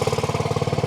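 A petrol motorcycle engine runs steadily at close range, a rapid even pulsing putter lasting under a second with no other sound.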